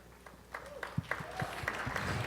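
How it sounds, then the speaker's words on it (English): A lone audience member claps sparse, irregular handclaps that sound faint against a quiet room. "That one person clapping over that way, that was sincere"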